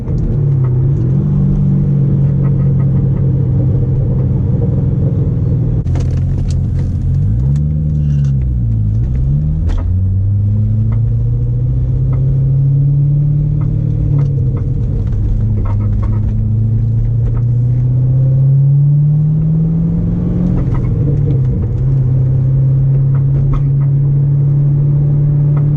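C6 Corvette fitted with an SLP exhaust, close and loud, accelerating with a deep droning rumble, a downshift blip and sharp crackling pops on the overrun.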